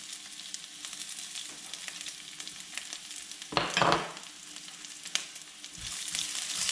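Garlic and green chilies sauté in hot oil in a pan, a continuous bright sizzle that swells briefly into a louder burst midway, then settles back to an even crackle.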